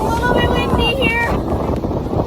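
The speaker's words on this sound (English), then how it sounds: "a little bit windy here." Wind buffets the microphone with a steady low rumble outdoors on a gusty day while travelling in Australia, with people talking and calling out over the blustery roar throughout.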